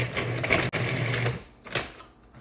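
A food processor whirs loudly and steadily while blending frozen cubed butter into dry pumpkin scone mix with spice, pausing briefly once, then dying away into softer rattling pulses.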